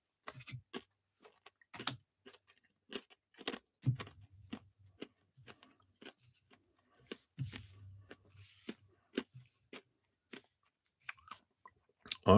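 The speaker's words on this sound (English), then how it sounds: "Sorry, I'm crunching my cough drop." Close crunching and chewing, a series of sharp irregular crackles with quiet pauses between bites, loud and right at the microphone.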